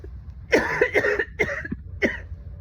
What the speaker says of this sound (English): I was up and not over here coughing my lungs out